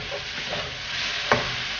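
Curry leaves hit hot oil in a pan and crackle into a steady sizzle, stirred with soft scrapes and one sharp clink of the spoon near the end, with no talking.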